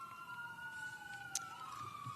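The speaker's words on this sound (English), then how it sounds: "I'm going to wait for the sirens to pass" Emergency vehicle sirens wail past an outdoor press briefing in California, a steady rising and falling tone at moderate distance, heard alone with no talking.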